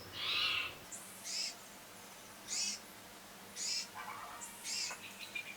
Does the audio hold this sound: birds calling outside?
yes